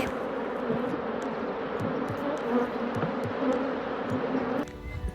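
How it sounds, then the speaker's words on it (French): Many bees buzz steadily around a flowering linden tree, a dense outdoor hum with individual insects droning past close by. "Attention aux abeilles, que je me fasse pas piquer."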